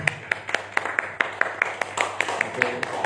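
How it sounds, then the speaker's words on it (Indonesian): Sparse, evenly spaced hand claps ring out in a hall after a religious lecture, about a dozen sharp distinct claps at a steady rhythm over a low hum, with a faint voice in the background. "Tepuk tangan dong."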